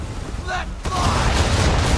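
Ship cannons let loose a broadside in the Assassin's Creed III naval game, a deep rolling boom and crackle that swells after a short lead-in of rumbling sea and battle ambience.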